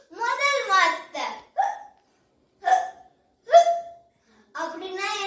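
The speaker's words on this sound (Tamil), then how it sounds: "விக்கல். விக்கல்னா இங்கிலீஷ்ல என்ன?" A child hiccups again and again in short, sharp bursts, mixed with speech in Tamil. Some of the hiccups may be acted out by the voice.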